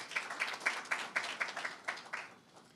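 Light, sparse applause from an audience at a launch ceremony in Senegal, honoring a director general of construction and housing; faint, distant claps in a loose steady patter that trails off.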